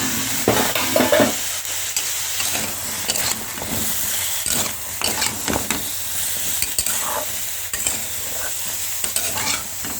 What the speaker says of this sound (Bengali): সেই আদা রসুন দিয়ে দেবো।